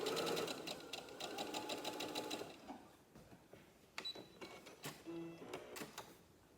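A sewing machine stitching two pieces of fabric together, a fast even mechanical patter that runs for a couple of seconds, then stops into scattered clicks and handling sounds, close by.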